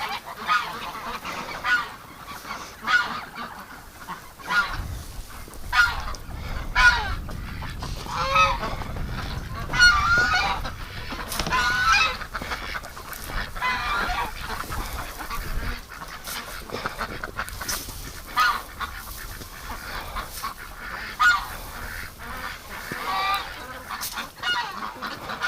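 A flock of ducks being fed hay outdoors in winter honks and quacks continuously, many birds overlapping close by, with rustling and shuffling mixed in throughout.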